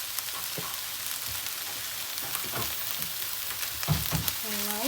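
Chicken puff filling with coriander leaves stirred in a pan, a steady soft sizzle broken by scrapes and light knocks of a spoon, with a brief faint voice near the end.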